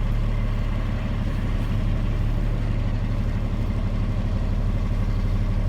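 A 2016 Kenworth T370 tow truck with a 350 HP Paccar PX9 engine idles steadily up close, a continuous low, throbbing rumble with no talking.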